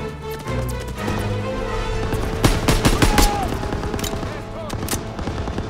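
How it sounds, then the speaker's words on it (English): Rapid machine-gun suppressive fire in the Call of Duty WW2 video game, dense bursts of close gunshots over a constant low battle rumble, with shouted voices mixed in. "Lay suppressive fire!"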